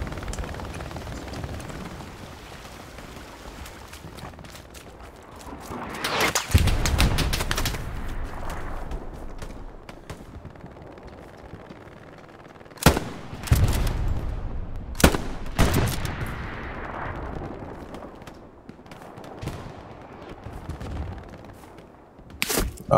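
Machine gun fire from a roof in a shooter game sounds as scattered bursts of loud, close gunfire separated by quieter stretches of rumbling ambience, with several sharp single cracks late in the sequence.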